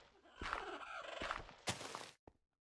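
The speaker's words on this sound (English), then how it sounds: "shut up, bird" Bird squawks from a dinosaurs mod in Minecraft, several harsh cries in quick succession, fairly loud and close, ending with a short sharp call.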